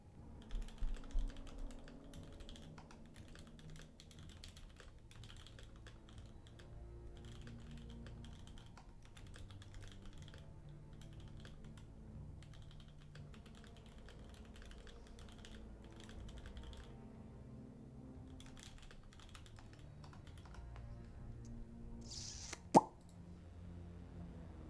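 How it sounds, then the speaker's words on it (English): Fast typing on a computer keyboard, a quiet, continuous patter of rapid key clicks in irregular bursts, with a sharp louder knock near the end. "Do I know my typing speed? Because it sounds insane."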